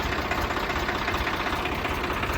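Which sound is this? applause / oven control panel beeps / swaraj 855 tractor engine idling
swaraj 855 tractor engine idling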